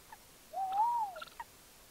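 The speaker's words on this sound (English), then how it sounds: "this is Jazz, my tawny owl" A tawny owl gives a single rising, wavering call up close, followed by a few short soft chirps, with the owl holding a caught wood mouse.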